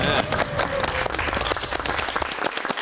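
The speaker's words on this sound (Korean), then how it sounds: "오늘 간만에 박수 한번 크게 보내드립니다" A studio audience on a Korean TV talk show breaks into loud, dense applause, many hands clapping rapidly and steadily, then tapering slightly toward the end.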